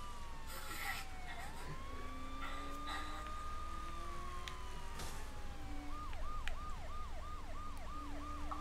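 A police car siren in the video game Saints Row The Third wails in long rising and falling sweeps, then switches to a rapid repeating yelp, moderately loud over steady game ambience.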